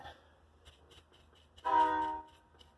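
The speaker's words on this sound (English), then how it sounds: "And a train is coming." A distant passing train sounds one steady, half-second horn blast over quiet background ticks and a faint low rumble, with occasional small clicks before and after.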